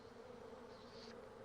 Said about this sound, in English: the scout bees are back at the hive, busily sharing their discovery with the other bees